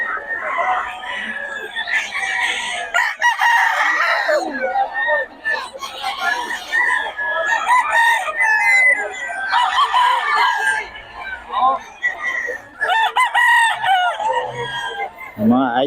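Roosters crow repeatedly and hens cluck nearby, a busy chorus of fowl that continues with hardly a pause.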